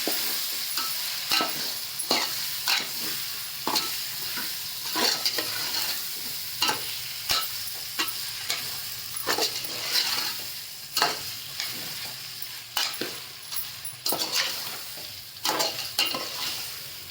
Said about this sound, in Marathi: आता याच्यात मॅरिनेट केलेली कोळंबी सोडून देते कोळंबी चांगली याच्यामध्ये परतून घ्यायची